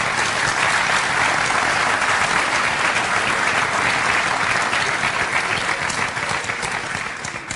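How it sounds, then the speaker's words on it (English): Sustained audience applause at a public forum on a toll road, dense steady clapping close by that holds throughout and tapers slightly at the end. "give them a round of applause for being here"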